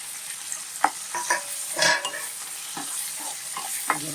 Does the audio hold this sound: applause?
no